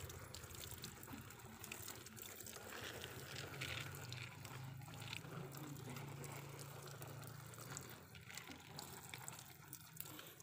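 Water poured onto a porang (konjac) plant growing in a polybag and fed with red NPK fertilizer, giving a soft, faint, continuous trickle and splash with no talking.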